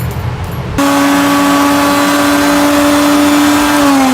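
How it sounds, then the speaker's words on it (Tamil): A mixer grinder churns masala and curd into a paste, starting abruptly with a loud, steady motor whine that holds unchanged for several seconds before easing slightly at the end. "இதை நல்ல பேஸ்ட் போல் இப்போ அரைச்சி எடுத்துக்கலாம்."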